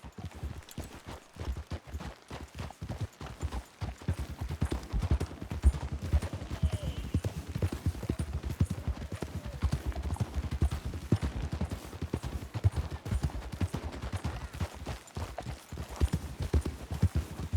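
Horse hooves pound in a fast, steady galloping rhythm throughout, close and continuous, with a dull rumble beneath, in the video game Red Dead Redemption 2.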